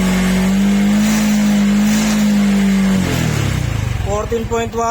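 A motorcycle engine revs high with no load, a loud steady drone that then drops back toward a rough, pulsing idle. The machine had a fullwave conversion and is running without a battery, and the engine sound fills the clip.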